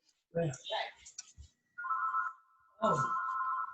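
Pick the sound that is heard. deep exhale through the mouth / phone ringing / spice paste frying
phone ringing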